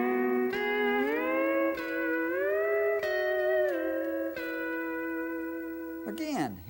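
Pedal steel guitar plays a fill in E using the F lever: sustained chords bend smoothly up and down through several slides, with a quick downward swoop at the end, loud and close.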